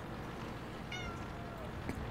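A cat gives a single short, faint meow near the midpoint, heard over a steady low background hum.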